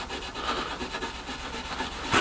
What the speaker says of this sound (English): abrasive up and down the corner just to get the glue smoothed off